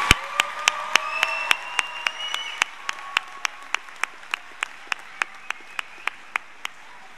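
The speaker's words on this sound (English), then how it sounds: "Please, graduates, applaud your family and friends that helped you." At a community college graduation ceremony, graduates applaud family and friends with sharp, evenly spaced claps in a steady rhythm, like a single clapper, heard over a faint tonal sound that fades after a few seconds.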